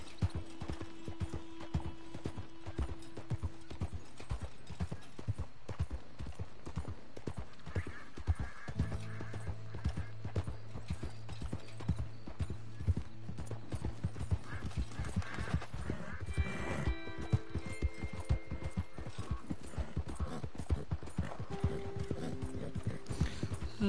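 Steady clip-clop of a horse's hooves while riding in a cowboy video game, a brisk rhythmic trot continuing throughout with occasional snorts and background game sounds, with no talking.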